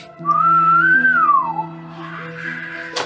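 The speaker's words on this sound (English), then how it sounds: "You hear the whistling wind kind of blowing through it as the sun beginning to set." A synthetic whistling wind effect blows through a mech, a loud gliding whistle rising and falling over a low sustained hum, then fading into a soft airy drone with a brief burst at the end.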